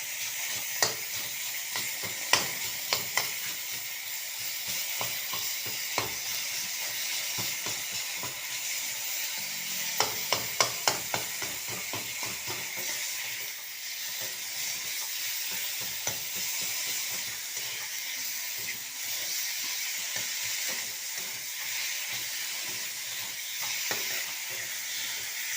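Tomato with green and powdered chili sizzles in hot oil for a simple rohu fish curry, a steady bright frying hiss broken by scattered clicks and scrapes of a spatula pressing and stirring, close and continuous without talk.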